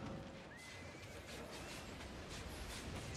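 Horses in the online game Albion Online, with a clear neigh and hooves clopping through a busy battle, faint and steady under background noise, with no talking.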